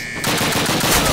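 Loud automatic gunfire rattles from a submachine gun in the Call of Duty 1 video game, a continuous rapid burst starting abruptly and running to the end.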